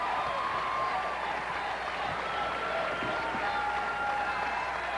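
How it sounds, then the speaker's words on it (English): Crowd at a 1995 Pac-10 women's gymnastics championship cheering and applauding, a dense continuous wash of clapping and crowd noise at steady loudness with a commentator's voice underneath. "You can hear the crowd go wild because it's her crowd."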